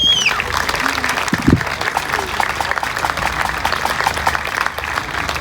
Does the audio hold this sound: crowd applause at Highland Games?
yes